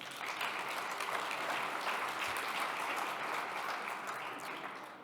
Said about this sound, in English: give Wab a big round of applause